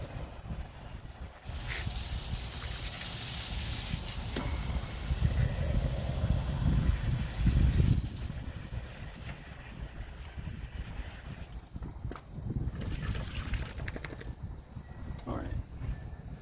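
Water runs and splashes steadily into an old measuring cup being rinsed, a close, fairly loud rushing wash lasting several seconds before fading to quieter background noise with scattered light knocks.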